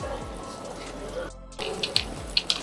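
Water pours into the upstream end of a tabletop flood demonstrator's model river channel, a steady near trickle and splash with a brief lull midway and a few sharp drip-like plinks near the end.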